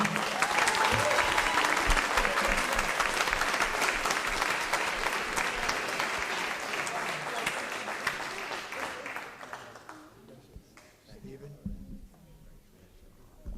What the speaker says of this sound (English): Let's give a round of applause to Steve Round